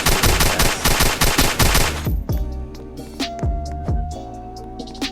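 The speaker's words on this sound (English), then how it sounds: "This is the Uzi, and it's got a good fire rate, even better fire rate than the Fast Death." Uzi in a Roblox shooter firing a fast burst of evenly spaced shots for about two seconds, then a handful of single reports ringing out over a humming background, loud and close.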